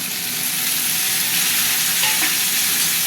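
Tomato pieces sizzle loudly in a hot pan as they are stirred and fried for a vegetarian pointed gourd curry, a dense continuous frying hiss with light scraping, no voices.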